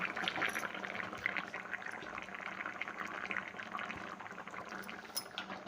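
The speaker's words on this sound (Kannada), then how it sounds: "ಈಗ ಸ್ವಲ್ಪ ನೀರು ಹಾಕಿ 5 ನಿಮಿಷ ಈ ಥರ ಮಾಡಿಬಿಟ್ರೆ ಮುಗೀತು ನೋಡಿ" Water is poured into a pan of ridge gourd curry cooking with ghee, a steady hissing, bubbling wash that holds fairly even throughout at close range with no talking.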